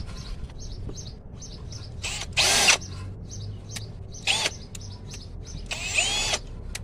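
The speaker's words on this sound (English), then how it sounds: "You put it in there and you just start working on drilling." A power drill runs in reverse, drilling out a bolt on a 2001–2005 Honda Civic, in several short whining bursts of varying length with pauses between them, while birds chirp in the background.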